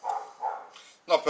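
A dog barks nearby in a brief burst of a few short, muffled woofs, with a sharper pair at the end.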